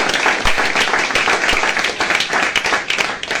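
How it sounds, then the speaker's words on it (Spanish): Audience applause at a book presentation: close, loud clapping from many hands, steady and dense with small rises and dips, carrying on throughout. "Un fuerte aplauso también"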